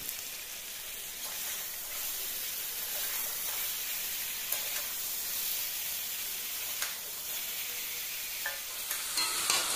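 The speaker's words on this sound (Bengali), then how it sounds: "দু মিনিট অন্তর অন্তর কিন্তু আমি চিকেনটা নাড়ছি" Chicken kosha, Bengali style, fries in a pan with turmeric and salt, giving a continuous hissing sizzle broken by occasional sharper scrapes and clicks of stirring, with no voices.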